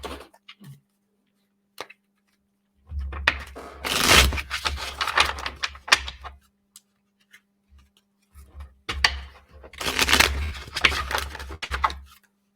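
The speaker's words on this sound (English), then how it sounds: "let's see if I get a good shuffle today." Tarot cards shuffled in two bursts of rapid riffling and flicking, close up, separated by quiet pauses and a few soft handling taps.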